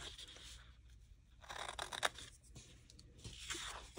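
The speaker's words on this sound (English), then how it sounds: "And then I'm going to cut this little square" Scissors cut through card to make tabs for a gift box, with three quiet bursts of crisp snipping and slicing separated by short pauses.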